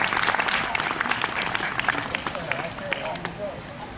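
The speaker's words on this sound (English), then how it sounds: "please welcome with a round of applause" An audience applauds for a band ensemble at a hall of fame event, a dense wash of clapping that starts strong and slowly thins, with some voices mixed in.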